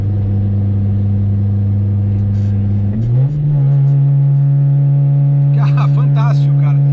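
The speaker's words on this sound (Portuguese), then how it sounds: "Esse som de escape realmente é cereja no bolo, né?" A Subaru Vivio kei car's engine idles with a steady low hum through the exhaust, then revs up slightly around the midpoint and holds a higher drone, with faint chirpy sounds late on.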